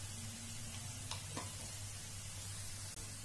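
Turmeric and ground spices sizzle softly in a pan while being stirred for poha pulao, a faint steady frying hiss with a couple of light utensil taps.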